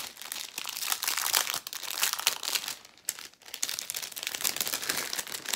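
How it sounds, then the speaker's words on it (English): A haberdashery packet from a sewing kit being opened, close, loud crinkling and rustling of plastic in irregular bursts with brief pauses, no speech. "Just a bit of crinkling while I open these"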